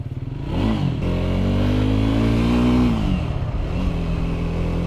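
Motorcycle engine at the start of an off-road ride in Nepal, revving up from idle to a sustained rising drone, then dropping back, close and loud.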